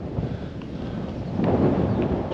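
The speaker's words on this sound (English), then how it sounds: "Windy as anything." Wind gusts buffet the microphone in low rumbling bursts that grow stronger partway through, with no one speaking.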